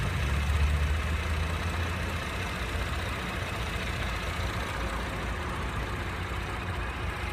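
A 2016 Chevrolet Camaro muscle car idles steadily, a low even engine rumble with a broad rushing wash over it, constant throughout with no revving and no talking.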